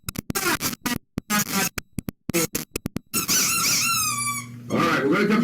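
Squeaky dog toy squeezed repeatedly, sharp rapid squeaks in quick bursts followed by a longer drawn-out wheezing squeal, heard close and loud.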